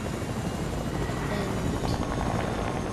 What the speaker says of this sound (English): So first you're gonna wanna get a helicopter.